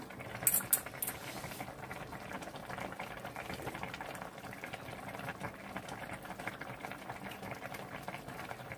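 A pot of gamjatang, pork bone stew, bubbles and simmers steadily at close range, with a soft continuous burble and a brief clink near the start.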